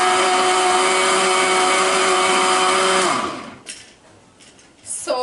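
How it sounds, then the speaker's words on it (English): A blender whirs loudly and steadily while mixing a Jamaican cocktail, then cuts off abruptly, leaving quieter clinks and faint handling noises. "You don't want to keep the blender running"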